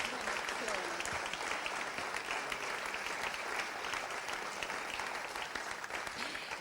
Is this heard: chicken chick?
no